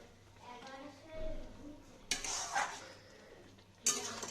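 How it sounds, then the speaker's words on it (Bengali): Maggi noodles cooking in a pot in a home kitchen: metal clinks and scraping of a utensil against the pot, two sharper knocks standing out, with a voice murmuring faintly beneath. "এই দেখো এখন একটু ম্যাগি বসালাম"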